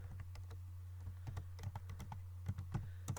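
Clicky keystrokes from a computer keyboard as code is typed into a file-handling program, irregular bursts of taps close to the mic over a steady low electrical hum, with no talking.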